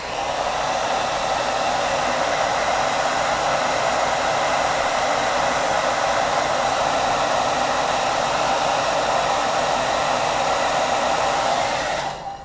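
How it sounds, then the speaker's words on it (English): A hair dryer blows steadily at close range, heating leftover sticker residue on a book, a continuous loud broadband whoosh that holds for about twelve seconds before cutting off abruptly. "we're going to just apply a little bit more heat"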